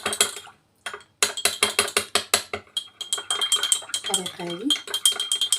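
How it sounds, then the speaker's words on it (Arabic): A spoon stirs pure saffron while a Moroccan tangia is being prepared, making rapid, rhythmic clicking taps that repeat steadily and close up, with a brief spoken voice near the end. "نشد المعلقه نحرك هذا الزعفران الحر"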